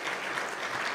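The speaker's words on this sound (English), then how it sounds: "I would like a big round of applause for Ambassador Carolina" An audience at an Ireland–Latin America and Caribbean business and economic forum claps in a dense, even wash of applause, steady and moderately loud for a brief moment.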